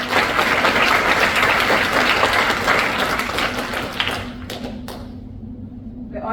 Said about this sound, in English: Please give her a round of applause for a job well done.